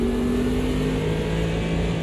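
A classic NASCAR stock car engine in the Automobilista 2 (AMS2) racing game holds a loud, steady high-rev drone with a strong, sustained tone, heard alone and unbroken.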